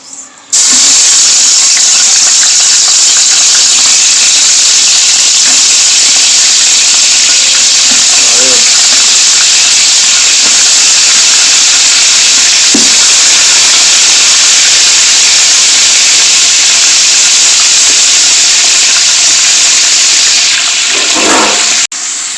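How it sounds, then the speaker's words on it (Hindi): Chicken pieces dropped into hot oil in a pot for white chicken karahi, giving a loud, steady broadband sizzle that holds for about twenty seconds, with a few scrapes and knocks of stirring along the way. "ऑयल हमारा गर्म हो गया, अब इसमें चिकन ऐड करेंगे।"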